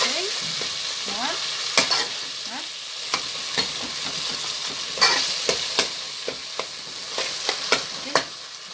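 Tomatoes frying in a pan for spaghetti sauce, with a loud steady sizzle throughout and repeated scraping, clacking strokes of a utensil stirring them. No voices are heard.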